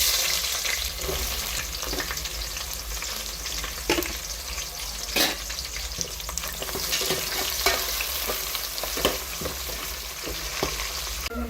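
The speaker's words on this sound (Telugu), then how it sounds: "మన మసాలా అయితే వేసేసుకుందాం. ఎర్రగడ్డలు అయితే వేసేసుకుందాం." Onions and masala fry steadily in hot oil for a chicken pulao, a continuous close crackling sizzle with occasional sharper pops and stirring clicks.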